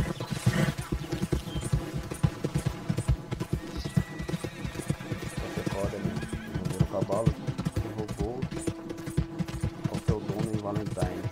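A horse in Red Dead Redemption 2 whinnies loudly and clops its hooves steadily over game music and ambient layers, with a voice speaking over parts of it.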